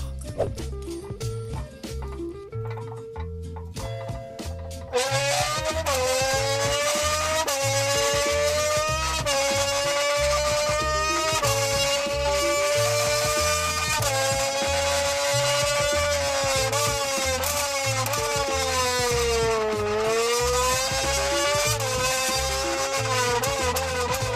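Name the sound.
voice imitating Formula 1 car engine using Monster can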